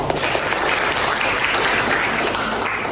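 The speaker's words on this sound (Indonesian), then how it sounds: "Oke, aplaus dan terima kasih." A lecture-hall audience claps steadily throughout, a dense wash of applause at full loudness with a faint voice underneath.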